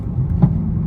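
A BMW F82 M4 with a DCT gearbox sounds off with one loud, short exhaust pop on a downshift, punching out over a steady engine drone inside the car.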